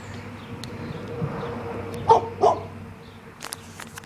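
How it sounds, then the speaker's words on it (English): A giant dog, one of a pair roaming nearby with one limping, gives two short barks close together, moderately loud against a low steady hum and faint insect-like buzzing. "there's a giant dog"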